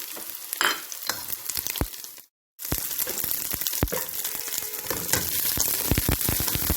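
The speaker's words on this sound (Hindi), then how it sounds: "शिमला मिर्च हल्का सा फ्राई करके हम इसमें" Chopped capsicum and garlic fry in hot oil in a pan for restaurant-style chicken manchurian, giving a steady close sizzle with scraping stir strokes and one brief silent gap, with no talking.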